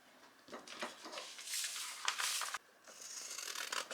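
Scissors cut fabric along a drawn line for a trapper hat pattern, with soft rasping snips and rubbing strokes, close and quiet, repeating in short bursts with a brief pause partway through.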